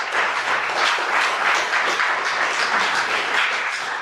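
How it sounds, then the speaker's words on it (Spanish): A church congregation claps for the Lord in sustained, dense applause, loud and even from start to finish with no talk over it. "Y quiero que le den un aplauso fuerte al Señor."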